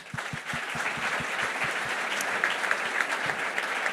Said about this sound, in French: merci Julien Tuffery, on peut l'applaudir